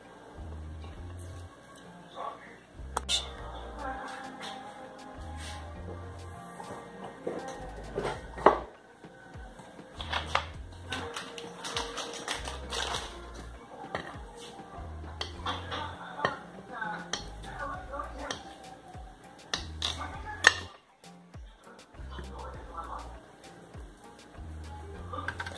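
A knife chops guava paste (goiabada) on a board for a mousse, a series of repeated dull thuds in an uneven rhythm, fairly close and moderately quiet, with a few lighter clicks between the strikes.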